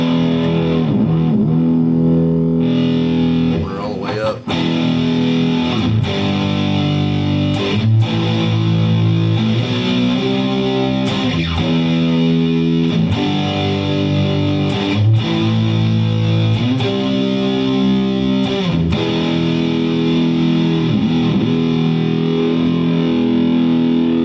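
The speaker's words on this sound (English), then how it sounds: "I really like the way this guitar sounds. Having the delay on it, and it just really makes this guitar sound nice." A Jackson Soloist electric guitar played through a delay effect, with distorted, sustained chords and notes repeating and echoing in a dense, loud wash that runs unbroken for the whole stretch, and no voices.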